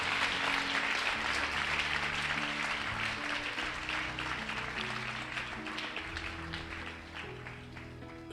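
Congregation at a church service applauding, dense sustained clapping from many hands that holds steady for several seconds before easing toward the end.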